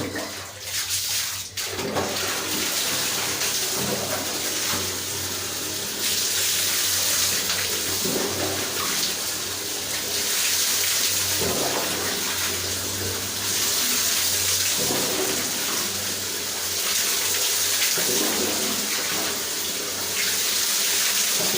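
Steady running water from a tap during a hair wash, a continuous close splashing hiss that shifts slightly as the flow is moved, with no talking.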